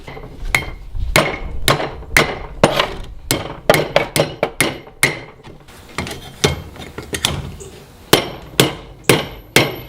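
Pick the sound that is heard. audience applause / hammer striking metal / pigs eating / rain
hammer striking metal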